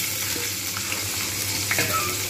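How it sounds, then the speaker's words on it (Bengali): Potatoes drop into hot oil left over from frying papad and sizzle with a steady, dense crackle throughout, close and even, with faint stirring clinks and no talking. "এই তেলেতেই আমি আলু দিয়ে দেবো।"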